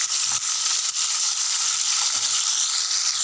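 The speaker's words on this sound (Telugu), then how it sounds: "స్పూన్ ధనియాలు, కమ్మటి వాసన వచ్చేదాకా ఫ్రై చేయాలి." Coriander seeds fry in hot oil for tomato chutney, a close, steady crackling sizzle with faint stirring scrapes throughout, no voices.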